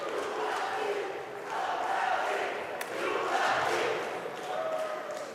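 A crowd at the European Weightlifting Championships in Batumi applauds and cheers for a weightlifter, a broad, surging roar that swells and dips in waves with scattered shouts, fairly distant and reverberant.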